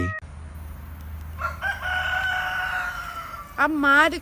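A rooster crows in a long drawn-out call, followed by a shorter rising crow near the end, clear against quiet background hum.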